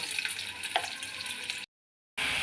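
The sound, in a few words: pointed gourd frying in mustard oil in wok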